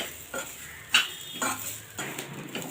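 A utensil scrapes and clinks in a pan as onion and dried coconut roast together until lightly browned, with a few distinct strokes spaced about half a second apart, close by, with a faint sizzle beneath.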